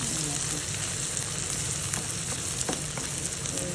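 Curry with small fish cooks in a pan over the heat, a loud, continuous close sizzle and frying hiss with occasional stirring scrapes, with no talking.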